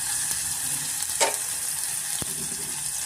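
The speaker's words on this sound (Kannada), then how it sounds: "ಸ್ವಲ್ಪ ನಾವು ಫ್ರೈ ಮಾಡ್ಕೊಬೇಕಾಗುತ್ತೆ" Crushed ginger and garlic fry with green chili and a pinch of asafoetida in a pan, giving a steady, close sizzle with a few brief stirring scrapes and no voices.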